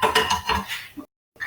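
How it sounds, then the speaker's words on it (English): A knife cuts cooked steak on a plate, giving a few close clinks and scrapes of metal on crockery, then a short silence and one more brief scrape. "I'm going to cut one piece of steak just to have a look and see what it's like."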